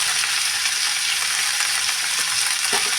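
Cauliflower, kohlrabi, potato and rohu fish curry sizzles steadily in a pan, a close continuous frying hiss with a couple of soft scrapes from stirring near the end.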